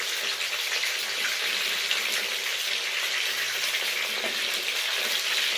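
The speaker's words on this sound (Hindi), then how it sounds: "अब हमने चिकन के दूसरे पीसेस भी रख लिए हैं, इसको भी हम हल्का सा फ्राई करेंगे" Chicken pieces frying lightly in oil, a steady broadband sizzle that stays even throughout with no talking.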